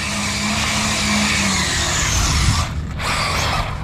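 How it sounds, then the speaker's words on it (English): ZD Racing EX07 6S RC drift car doing a burnout on pavement, a continuous loud buzzing motor whine with hissing tire squeal that dips briefly near the end. "some rubber on the pavement from that burnout"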